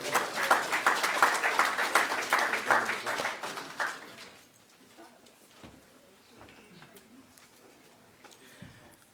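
A round of audience applause at a 2022 Magic City Classic news conference, brisk crowd clapping for about four seconds that then fades into quiet room noise with scattered faint sounds.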